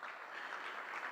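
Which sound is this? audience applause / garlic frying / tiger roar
audience applause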